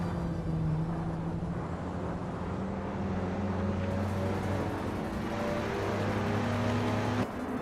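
Engines of 1980s supercars, a 1987 Buick GNX among them, race in a video game, making a steady droning hum whose pitch shifts and layers as the cars accelerate together, loud and continuous without talk.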